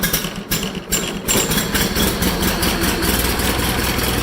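An old tractor engine catches and settles into a steady, loud idle, with a rapid chugging rhythm close by after a few uneven first seconds.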